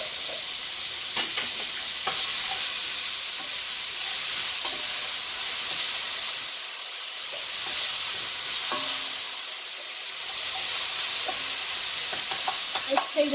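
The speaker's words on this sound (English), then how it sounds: "saute some onions." Onions sauteing in hot oil in a pan, a steady bright sizzle and hiss with occasional stirring scrapes, fairly close and continuous, without talk.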